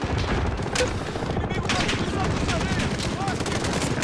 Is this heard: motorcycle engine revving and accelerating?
no